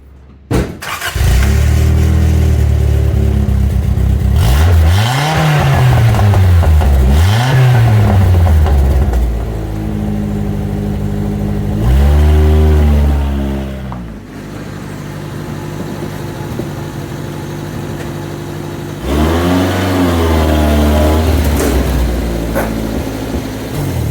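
A 1984 Toyota Tercel SR5 with a freshly repaired exhaust idles close by, then revs repeatedly in rising and falling sweeps with some popping, settling back to a steady idle between loud throttle blips.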